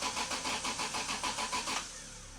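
A Toyota 2JZ engine in a Mk4 Supra, unstarted for two years, cranks over on the starter with a quick, even series of rhythmic pulses that stops without firing, leaving a faint background.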